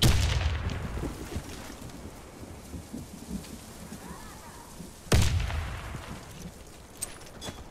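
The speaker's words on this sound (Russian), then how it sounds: "Кидаю гранату." A grenade thrown and exploding in the Warface shooter game: a booming blast with a sharp onset partway through, set against a steady, rumbling battle din, with no talking.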